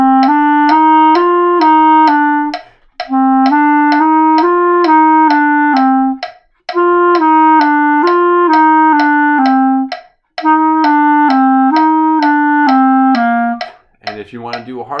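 A clarinet plays a quick, evenly tongued warm-up exercise at 130 bpm, crisp repeated notes in four phrases separated by brief breaths, loud and close, ending with a short rustle.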